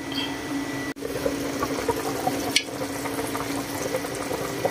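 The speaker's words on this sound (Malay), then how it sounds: "sup kita pun mendidih dah" Thai-style chicken soup bubbles and simmers in a pot with a soft, continuous burbling hiss, interrupted by a couple of brief clicks.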